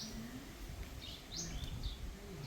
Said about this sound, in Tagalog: May kumakanta na ibon.